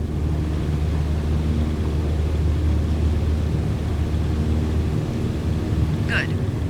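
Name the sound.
small airplane engine at full power on takeoff roll, from video game Microsoft Flight Simulator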